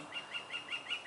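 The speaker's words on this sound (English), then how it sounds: "Stupid birds." Birds call in a Peruvian jungle with about five evenly spaced bright chirps, each rising and falling, moderately faint over a soft background hiss.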